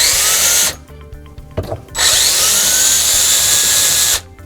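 A power drill with a 2.5mm bit pre-drills hinge holes using a jig, whining loudly in two sustained bursts separated by a brief pause with a short blip.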